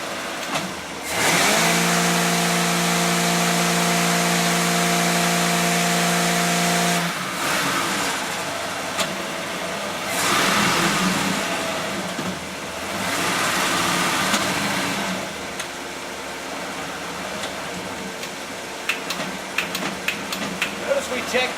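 Engine driving a transmission on a dynamometer test stand, fitted with a pump-around cooling system and a trans brake, roars at a steady high pitch, then drops away as load comes off, with further revving surges and clattering mechanical noise.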